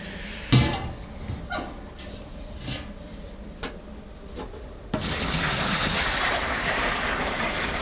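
Homebrew IPA wort from a Coopers kit poured from a pot into a fermenter, starting with a few clanks and knocks before a sudden steady rush of pouring liquid takes over, close and continuous.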